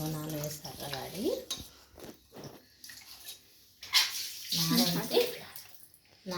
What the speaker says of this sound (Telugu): కడిగి శుభ్రంగా కడిగి ఇంకో 4 సార్లు కడిగి